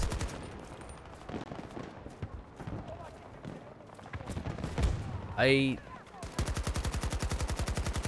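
Gunfire from a gun in the video game Battlefield 2042 rattles in rapid automatic bursts, loud and close, ending in a steady fast stream of shots, with a player's voice talking over parts of it.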